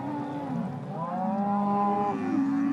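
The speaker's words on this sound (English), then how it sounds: "This is just like a river of cows flowing into the field." Dairy cattle on a Cumbrian farm moo repeatedly as a hungry herd surges onto fresh grass, with several overlapping long, low calls close by and continuing without pause.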